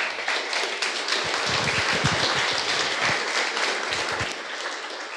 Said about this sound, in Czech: Já myslím, že to zaslouží velký potlesk.